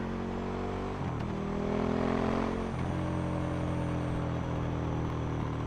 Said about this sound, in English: Crackle and popping out of the exhaust, even with the cat on it.